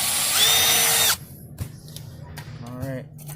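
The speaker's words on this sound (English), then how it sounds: "And drill right here." A power drill whines at high speed for about a second while drilling a hole to install a rear splitter on a G35 sedan, then cuts off, leaving a few quiet clicks and a brief voice.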